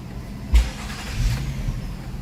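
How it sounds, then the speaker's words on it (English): A 2012 Nissan Maxima engine running at idle during an idle relearn procedure, a low steady rumble with a brief thump near the start. "Car is running."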